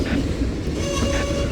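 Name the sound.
Union Pacific freight train passing with CSX hoppers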